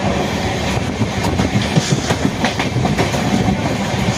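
A train runs through Trichy station on a rainy day without stopping, a loud, close, continuous rumble with rapid clickety-clack of the wheels over the rails and no voices.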